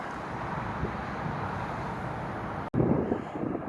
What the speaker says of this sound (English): Hope the wind's not too much of a bother. It's a bit breezy up here, but not too cold.